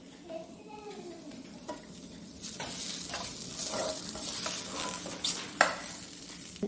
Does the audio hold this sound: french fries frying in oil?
yes